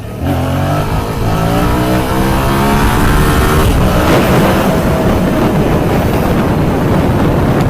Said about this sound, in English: optimum spot for me on the MT-07 to be able to just power wheelie it up. So second gear, 50k,